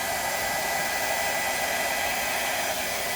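A hair dryer runs steadily on its low setting, a constant close airy whoosh with no break, used for blooming a small Halloween craft piece, no talking heard.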